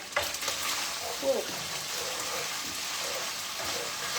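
A pound of bacon frying in a pot, a steady crackling sizzle with light scraping, nearby and unbroken throughout.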